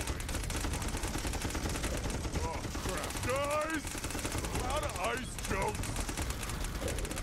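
A minigun in Battleborn firing as a steady, loud buzzing stream of rapid shots throughout, with a voice talking over it in the middle.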